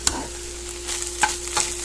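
Garlic stir-frying in a pan for a Greek scrambled-egg quiche, a soft steady sizzle broken by a few brief scraping stirs from the utensil, close and quiet, with no voices.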